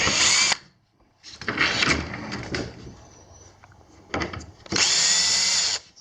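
A power drill bores into wood while a bandsaw sled is built, sounding in loud whirring bursts at the start and end, with clunks and handling noises from the tool and workpiece in between.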